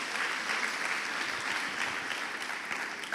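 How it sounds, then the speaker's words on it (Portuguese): A church congregation applauding, a dense, even wash of many hands clapping at steady volume throughout. "aplauda o Senhor em nome de Jesus"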